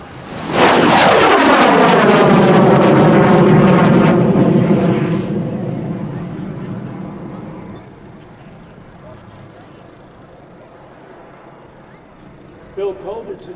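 MiG-17F fighter jet with afterburner making a loud, close pass at the Dover AFB air show: a roaring, sweeping whoosh that falls sharply in pitch as it goes by, then a long rumbling fade.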